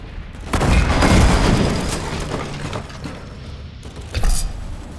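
A grenade goes off in the World War Heroes shooter during a death match, a loud broadband boom near the start that swells and slowly decays, followed by a second sharp blast near the end amid mechanical game noise.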